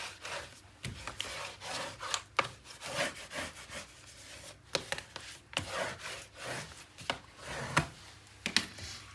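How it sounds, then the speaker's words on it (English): Rhythmic scraping and rubbing as layers of paper in a 9 x 9 mini album are burnished by hand, a steady run of short strokes with soft taps, close and fairly quiet. "let's do some good burnish"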